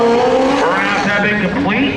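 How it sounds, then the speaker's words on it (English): A Pro Street drag motorcycle's burnout produces a loud, close, continuous high-pitched tire squeal with a shifting, wavering engine tone, sustained for the full stretch without pause. "Burnouts have been complete."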